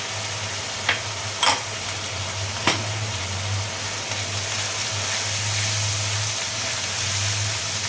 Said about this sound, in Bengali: এবারে দেবো আমি আদা রসুন বাটা